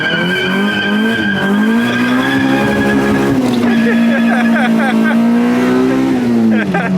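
Honda VTEC car launching hard from a dig, tires squealing loudly as the engine screams through rising revs with a shift-like dip midway, close and continuous, with voices underneath.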